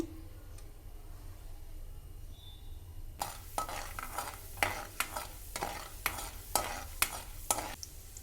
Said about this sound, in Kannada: ಕಡಾಯಿ ಕಾದಮೇಲೆ ಸ್ವಲ್ಪ ಎಣ್ಣೆ ಬಿಟ್ಟುಕೊಳ್ಳೋಣ ಎಣ್ಣೆ ಕಾದ ನಂತರ ಸ್ವಲ್ಪ ಉದ್ದಿನ ಉದ್ದಿನಬೇಳೆ ಕಡಲೆಬೇಳೆ